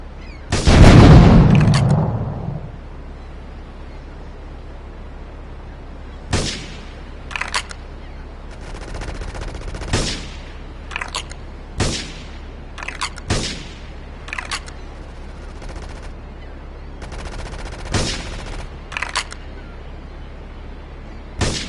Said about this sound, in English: investigating report of gunfire and explosion